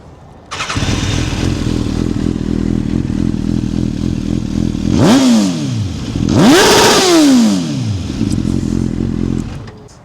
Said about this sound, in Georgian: ამ მოტოციკლეტს აქვს ძალიან სიგიჟე ხმა.